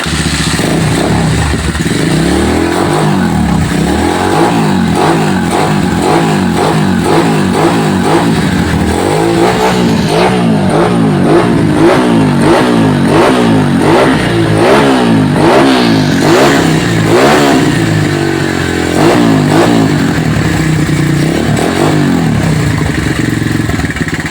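A hard-starting Zongshen motorcycle engine sputters to life and revs repeatedly in rough, rising bursts, loud and close, with a clattering idle between throttle blips.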